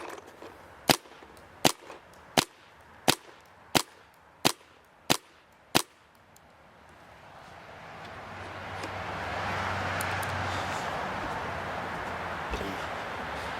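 Bob Long G6R paintball marker fitted with a low pressure poppet fires eight sharp, evenly spaced shots in quick succession, then a rising outdoor wash of air and background noise follows with no further shots.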